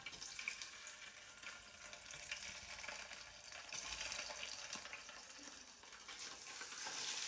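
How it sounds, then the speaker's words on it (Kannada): Paneer cubes fry in a pan until golden for paneer tikka masala, giving a steady, close sizzle with soft scraping and stirring and no voices. "ಸೊ ಅದಕ್ಕೆ ಇದ್ರೊಳಗನೆ ಸ್ವಲ್ಪ ಪನ್ನೀರನ್ನ ಫ್ರೈ ಮಾಡ್ಕೋತೀನಿ"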